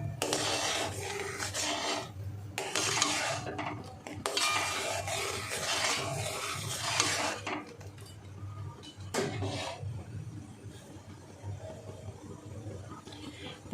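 A spoon stirs a homemade vinegar mixture in a pot on a gas stove until it dissolves, giving steady close scraping and rubbing strokes that pause briefly and then resume, with no talking.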